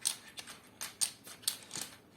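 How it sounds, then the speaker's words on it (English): Keycaps are pressed back onto a Razer BlackWidow mechanical keyboard, giving five or six sharp, separate plastic clicks spaced roughly every half second, close and fairly quiet against a silent room. "now it's time to install them back on the keyboard"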